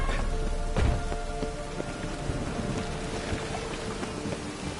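Steady rain hisses in a storm in The Witcher 3 video game, with a low thunder rumble early on beneath the continuous downpour and scattered drips.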